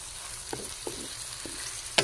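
Adobong pusit with squid and shrimp stirred in a frying pan, giving a steady low sizzle broken by a few soft scraping strokes and a sharper clink near the end, close and alone with no talking.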